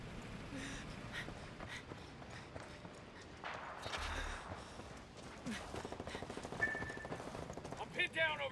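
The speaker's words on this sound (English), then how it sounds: "Taking a lot of fire over here" Gunfire in the Ghost Recon Wildlands video game, bursts of shots and clatter building toward the end over a busy, noisy game mix, with a voice talking at points.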